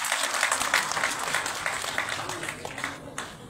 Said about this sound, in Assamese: এটা হাত চাপৰি নিজৰ বাবে বজাই দিয়ক।